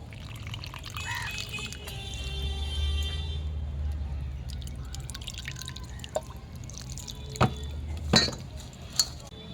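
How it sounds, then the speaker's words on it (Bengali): Water is added little by little to a cauliflower pakora batter, with faint trickles and scattered drips, then a few light clinks of a bowl or utensil near the end. Background hum runs underneath. "এখন আমি এর মধ্যে অল্প অল্প করে জল অ্যাড করছি।"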